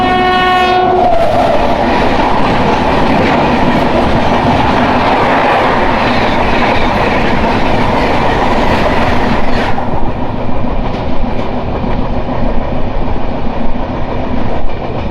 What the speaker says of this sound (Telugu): చెన్నై ఎగ్మౌంట్ నుంచి ముంబై వరకు వెళ్ళే సూపర్ ఫాస్ట్ మెయిల్ ఎక్స్ప్రెస్.